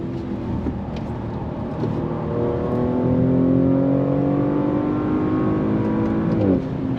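A 2023 Audi S6 sedan with an 8-speed automatic accelerates hard, its engine note rising steadily in pitch through sustained pulls, with a quick gearshift near the end. The loud, continuous sound is heard from inside the car, with no talk.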